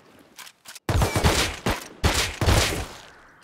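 Gunshots land as headshots in Rust, a few faint pops at first and then a run of loud, close, sharp reports spaced unevenly about half a second apart, each with a short ringing tail.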